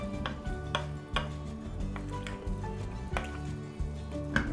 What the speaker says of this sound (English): add 2 14-ounce cans of diced tomatoes and mix it well again.